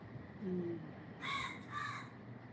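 Two harsh crow caws sound one after the other, fairly close, over quiet background hum.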